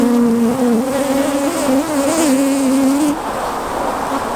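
Honey bees from a colony caught as a swarm hum loudly around an open hive during a frame inspection, a steady, wavering buzz up close for about three seconds before thinning out.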